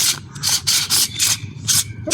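A new front strut bearing for a Ford EcoSport rubs and scrapes as it is turned by hand, close and loud, in a series of short rhythmic gritty strokes.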